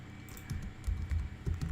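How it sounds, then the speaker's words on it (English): Quick, close clatter of fingers typing on a computer keyboard while writing a fishing report post, an uneven burst of key taps over a faint background hum. "all I do is type into the editor"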